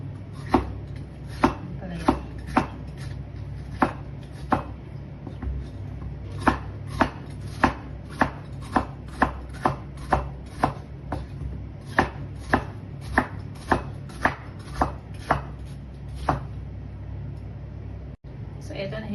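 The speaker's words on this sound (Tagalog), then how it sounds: "So, eto, nahiwa ko na yung ampalaya." Knife chopping ampalaya (bitter gourd) on a cutting board, a long run of sharp, irregularly spaced taps, loud and close over a low background hum.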